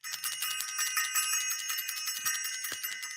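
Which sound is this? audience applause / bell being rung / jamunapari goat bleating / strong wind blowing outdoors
bell being rung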